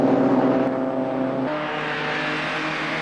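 A Triumph TR race car on its final lap of a 1995 circuit race roars loudly past, its engine note dropping in pitch as it moves away, alone with no talking.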